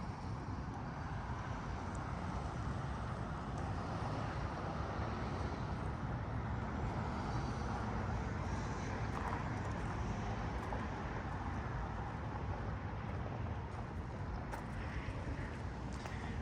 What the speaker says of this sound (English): That's I-90, and that's what all the traffic noise is from.